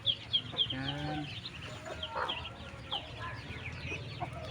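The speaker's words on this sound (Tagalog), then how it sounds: "Maraming manok dito mga ka-IMS." Several chickens cluck close by in short, uneven bursts, with a few higher chirps mixed in over a busy farmyard background.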